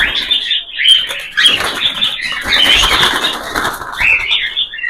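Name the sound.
cockatiel birds jumping and flapping in cage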